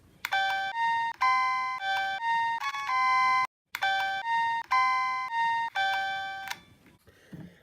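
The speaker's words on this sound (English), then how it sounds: "One is a Cerberus Pytronics chime strobe with a Wheelock module on it, and here we have an original Wheelock chime strobe." Two fire alarm chime strobes sound together, a Wheelock CH70 and a Cerberus Pytronics unit fitted with a Wheelock module, ringing loud repeating chime patterns with a brief pause midway before stopping.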